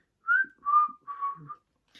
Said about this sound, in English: He whistled a little tune